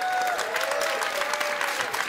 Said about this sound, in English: Jamie requires a huge round of applause